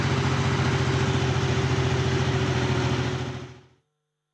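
A tractor engine idles with a sand-laden trolley attached, a loud steady low throb with no voices, cutting out abruptly after about three and a half seconds.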